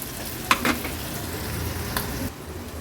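Onion sautéing in oil over a low-to-medium gas flame, a continuous close sizzle with a couple of brief scraping stirs of a spatula against the pan.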